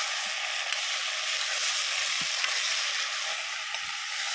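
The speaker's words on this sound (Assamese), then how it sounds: "ভাজি থাকোঁ।" Steady sizzling of taro and fish frying in hot oil in a pan, a continuous close hiss with a few soft stirring knocks and no talking.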